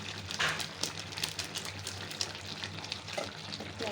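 Meat curry with masala is stirred in a pot, giving a faint, close sizzle with scraping and stirring scrapes in irregular bursts.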